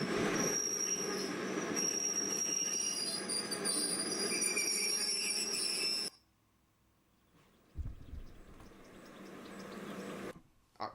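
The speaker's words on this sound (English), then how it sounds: "that's the English electric engine for you, Victor." An English Electric diesel locomotive passes loud and close, with wheels squealing on rails and a heavy rumble for about six seconds before it cuts off, leaving quieter rumbling and movement afterward.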